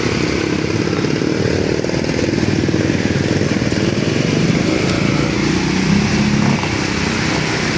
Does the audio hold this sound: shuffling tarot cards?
no